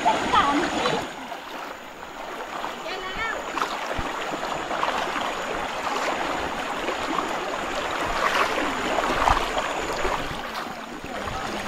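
Strong stream current rushing past a riverside campsite on a forest hiking trail, a loud continuous watery roar with occasional splashes, and voices talking over it.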